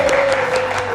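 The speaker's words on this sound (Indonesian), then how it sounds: "kita kasih tepuk tangan sekali lagi" A studio audience on a late-night Indonesian talk show claps loudly and steadily, a dense wash of applause filling the short moment.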